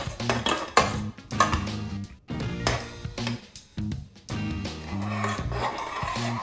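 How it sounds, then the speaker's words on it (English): Beer cheese dip being stirred in a pot as the cheese melts into simmering beer, the spoon scraping and clinking against the pot in uneven strokes, close and moderately loud, with no talk. "And now I'm just gonna stir."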